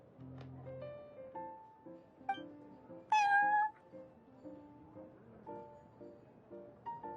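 A cat meows in the video game Genshin Impact, with several short mews and one louder drawn-out cry in the middle, set over a steady, gentle game music background.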